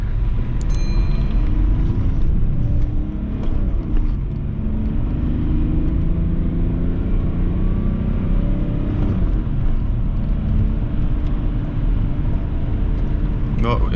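A BMW E34 car accelerating, its engine rumble rising steadily and staying loud throughout, with a voice talking over it partway.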